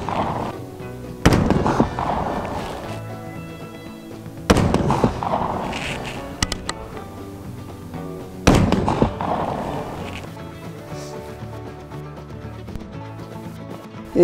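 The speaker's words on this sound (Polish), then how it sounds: "oddaliśmy 5 strzałów" Rolling Block .45 rifle fired at a shooting range: three loud, sharp single shots spaced a few seconds apart, each followed by a decaying echo and ringing in an otherwise quiet outdoor setting.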